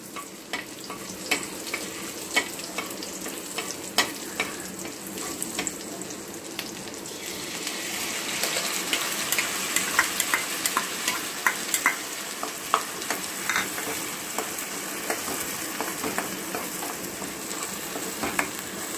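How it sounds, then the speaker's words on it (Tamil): Onion and green chili paste fries in a pan for paneer butter masala, a steady sizzle with repeated scraping stirs that grows louder and busier partway through, with no talking. "அது இப்ப நல்லா ஃப்ரை ஆகணும்"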